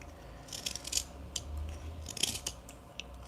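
Olive wood being cut by hand with a carving tool, as short crisp slicing and scraping strokes in quick irregular bursts, close and quiet with no talk.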